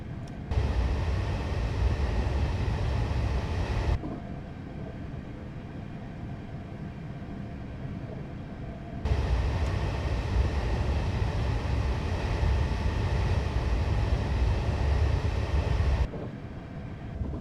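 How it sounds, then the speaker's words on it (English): Class 444 electric multiple unit coasting with light braking on a left-hand curve in a railway simulation, a steady rumbling rolling roar that drops to a quieter hum in the middle before swelling again. "we're going to continue to allow the train to coast and apply light braking on this left-hand curve here"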